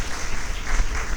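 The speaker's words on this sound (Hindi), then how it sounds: "सो ज़ोरदार तालियों से उनका स्वागत किया जाए" A brief burst of audience clapping welcomes a trainer to the stage at the closing ceremony of a kindergarten teacher training camp, dense and fairly near.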